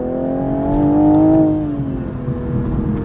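A Toyota Supra accelerates onto an interstate, its engine note rising steadily in a smooth, loud drone heard from inside the car, peaking midway and then settling into a steady cruise hum.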